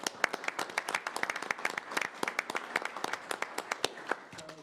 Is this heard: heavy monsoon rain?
no